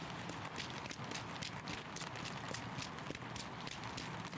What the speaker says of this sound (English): You can hear the footsteps running in the rain